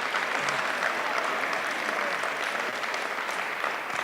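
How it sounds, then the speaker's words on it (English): Steady applause from an audience at a community cabinet meeting, a dense, even wash of clapping that holds for the full stretch without pause. "Let's give them both a round of applause and thank them for their services."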